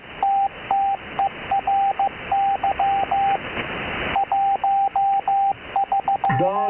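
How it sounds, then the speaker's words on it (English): Morse code CW signal received on a ham radio: a steady single-pitch tone keyed in rapid dots and dashes over a constant hiss of static, with a short break in the middle and a brief squeal of tuning at the end. "Can I get a relay on that CW?"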